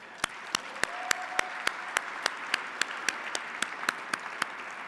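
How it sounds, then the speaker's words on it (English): Audience at an award ceremony clapping, a series of sharp, evenly spaced claps repeating steadily for several seconds, with no voices over them. "I think we ought to give them one more round of applause."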